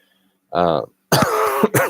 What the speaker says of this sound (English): I'm still fighting off this cough